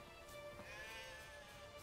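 Sheep bleat in The Witcher 3 on the open grasslands of Skellige, a wavering tonal call that rises and falls over a steady bed of game ambience, moderately near and alone with no talk.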